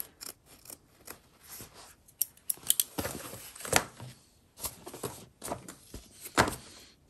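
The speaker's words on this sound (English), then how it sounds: "this excess here, you can just trim away slowly." Scissors slowly trim excess fabric while sewing a backpack panel, a series of close, crisp snipping cuts in uneven bursts with brief pauses and light handling noise between them.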